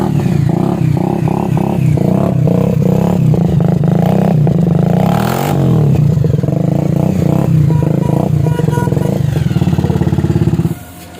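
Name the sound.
Bajaj Avenger motorcycle engine with modified silencer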